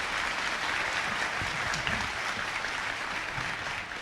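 An audience at a graduation ceremony applauds, giving a dense, steady wash of clapping from many hands that holds at an even level throughout.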